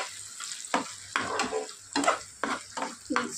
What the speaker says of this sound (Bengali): এবার এটাকে ভালো করে মিক্স করে নেব।